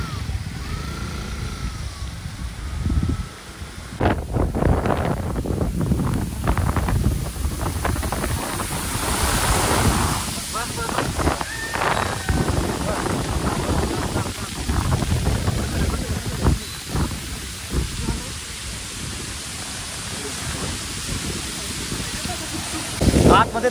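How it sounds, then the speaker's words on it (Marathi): Strong wind gusts in the Sahyadri ghats near Ozarde waterfall at Koynanagar, Satara, roaring and buffeting the microphone in uneven bursts, with a person talking over the rushing air. "आतमध्ये तुफान वारा आहे, छत्री उडून जाण्याचा काही चान्स नाही आहे"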